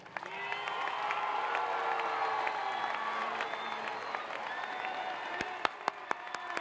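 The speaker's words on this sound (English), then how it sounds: "a big round of applause" Crowd at a closing ceremony applauding and cheering steadily, a sustained wash of clapping with voices mixed in and a few louder claps near the end.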